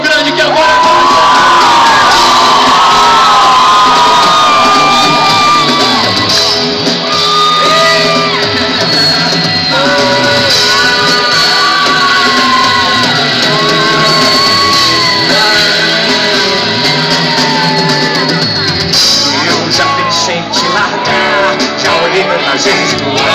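A concert audience in Campo Grande at a show cheers, whoops and shouts loudly and continuously, with a dense roar of voices and music.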